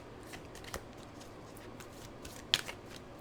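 A tarot card slid back into its deck, a soft papery shuffle with a brief sharper flick near the end, quiet and close with no talking.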